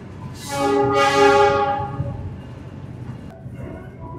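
An Indonesian KRL commuter train sounds a long horn blast with two swelling pulses at a busy station, then a steady rumble of the train and station ambience continues.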